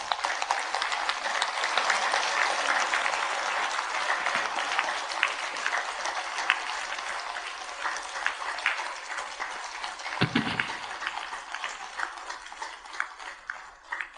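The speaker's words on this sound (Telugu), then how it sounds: "ధ్యాన మహాచక్రం 7కి గట్టిగా చప్పట్లు కొడదాం." Steady applause from an audience at a meditation gathering, dense and continuous for the whole stretch with scattered sharper claps, slowly thinning toward the end.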